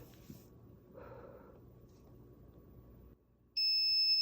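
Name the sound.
electronic alarm going off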